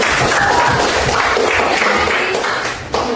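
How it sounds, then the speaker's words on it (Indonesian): Steady clapping from a class of junior high school students fills the room, dense and close, and thins slightly just before it ends. "Oke, tepuk tangan."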